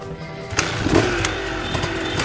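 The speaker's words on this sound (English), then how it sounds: "Leo, get on the bike!" A motorcycle engine in the video game A Way Out starts and revs, rising into a rough, continuous roar with a few sharp bursts, loud and close.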